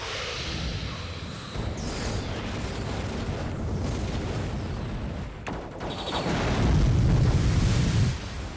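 Ship artillery booms and explosions roll through a naval battle video game, a dense continuous rumble of blasts and impacts, loud and close, with a heavier burst swelling near the end.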